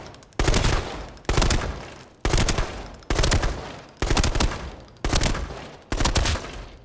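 Single deliberate gunshots ring out one after another in Arena Breakout Infinite, seven loud evenly spaced cracks roughly a second apart, each with a booming tail, with no talking.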